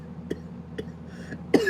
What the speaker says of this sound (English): I'm like coughing into this mic.